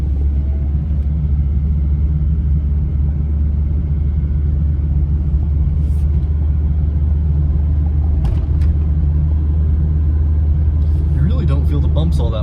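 Cabin view of a V10-powered Dodge Ram 2500 truck cruising at about 40 mph, a loud continuous low engine drone and road rumble with occasional bumps, someone talking over it.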